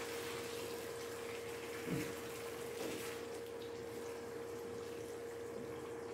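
Boiled water from a teapot poured steadily into a cooking pot of stuffed zucchini blossoms, a continuous splashing stream with a faint low hum beneath and no talking.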